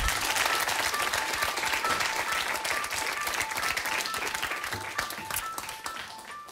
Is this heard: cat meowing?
no